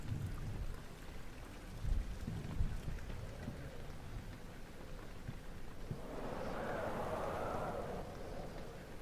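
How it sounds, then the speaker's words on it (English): Wind and rain outside a castle in the horror game Amnesia: The Dark Descent, a low steady rushing with a soft rumble early on and a broader gusting swell toward the end, quiet and distant. "You can hear wind rustling outside."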